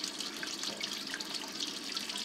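Water from a sump pump discharge runs in a steady, continuous splash and trickle, close and fairly loud, with no voices over it.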